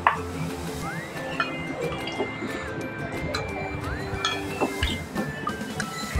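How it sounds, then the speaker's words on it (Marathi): Basundi kulfi mixture poured into small glasses in a home kitchen, with soft liquid trickles and drips, light clinks of glass and utensils, and steady background noise throughout. "तर मी आता हे छोट्या ग्लासामध्ये हे मिश्रण घालणार आहे."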